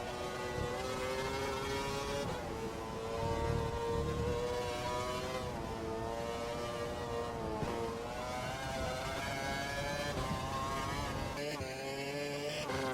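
An F1 race car heading out on a flying lap in an F1 video game whines with a high, steady engine note that climbs and dips through gear changes, with a short stutter near the end, alone without talk.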